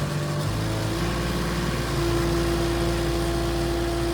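A tractor running on a freshly swapped-in Kubota engine idles steadily up close, its constant low drone and hum continuing evenly without a break and with no one talking over it.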